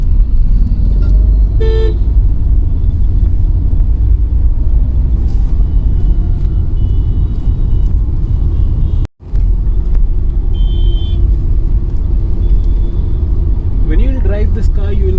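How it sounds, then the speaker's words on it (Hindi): A 2021 Tata Altroz iTurbo driving on a road, a steady low engine and road rumble from inside the cabin with a distant horn toot, under continuous talk. "When you will drive this car, you will realize that it is quite stable."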